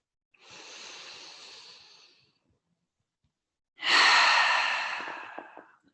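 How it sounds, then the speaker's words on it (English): A group breathing together during a trauma-informed yoga practice: a long, soft exhale, a pause of silence, then a louder, fuller breath. Both sound close and airy, with no talking. "Perhaps we start with our exhale, letting all the air go, and then we'll breathe in together."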